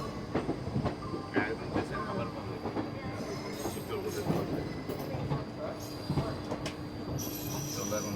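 Howrah to Prayagraj express train 12333 running at speed: a steady low rumble inside the carriage with rhythmic wheel clatter and faint metallic squeals, the noise constant throughout.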